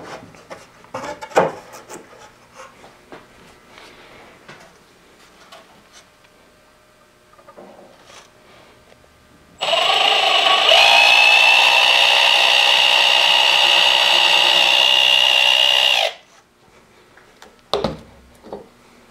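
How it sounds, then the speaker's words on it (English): A power drill whirs loudly and steadily for several seconds, drilling a pilot hole for nails through shiplap wood, bracketed by quieter handling knocks and scrapes of wood before and after. "run a pilot hole through it, and then I can drive the nails in."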